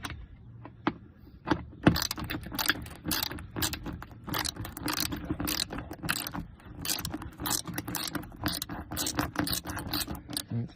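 Ratchet wrench loosening 8mm bolts on a Mercedes-Benz E320 W210 during radiator replacement, a busy run of close metallic clicks and scrapes with jangling tool sounds throughout, no talk.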